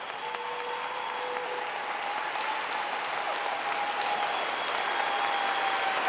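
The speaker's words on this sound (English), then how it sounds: "Let's give them a round of applause." Sustained applause from a large audience at a city State of the City address in Long Beach, steady and even throughout with a faint tonal hum beneath.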